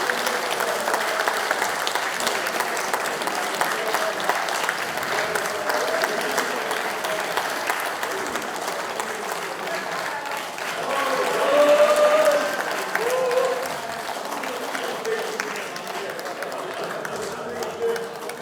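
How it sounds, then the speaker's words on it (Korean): Lawmakers at a party caucus meeting applaud to approve candidates, a sustained round of clapping filling the hall with a brief swell in the middle, mixed with faint chatter. "의원님께 동의 주시면 박수 주시기 바랍니다."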